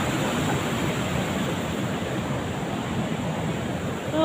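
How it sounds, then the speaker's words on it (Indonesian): Strong ocean waves at a beach roar as a steady, loud, broad wash of surf that continues without a break and swells slightly at the end. "Tuh ombaknya tuh kenceng banget ya teman-teman."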